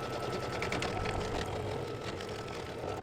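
A Baby Lock or Brother embroidery machine stitches an in-the-hoop snap coin purse, giving a steady, continuous mechanical whir with a rapid needle rhythm, close and unbroken throughout.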